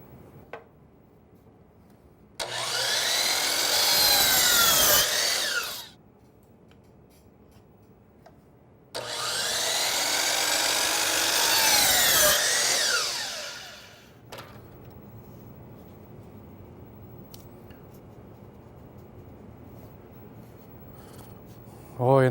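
Sliding compound miter saw making 45-degree miter cuts in wood for a picture-frame shape. Two loud cuts of about three seconds each, each a rising whine and rasping bite through the board that winds down, separated by quiet pauses, with a faint click near the end.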